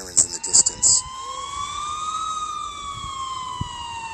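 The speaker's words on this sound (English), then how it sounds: "I finally heard sirens in the distance." Sirens wail in the distance within an animated story, a rising and falling emergency-vehicle tone sweeping steadily after a few short tonal bursts at the start, faint and far off.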